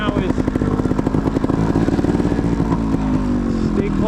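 A motorcycle ridden by a novice rider, engine running steadily close by with a rapid pulsing throb and rattling mechanical texture throughout, loud and continuous with no pauses.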